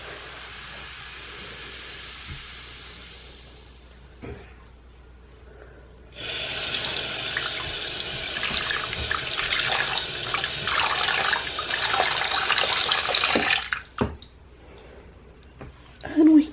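A kitchen tap gushes into a clogged sink drain, a bright, steady stream of running water that starts abruptly, holds for several seconds and then cuts off, with quieter gurgling and a voice before and after.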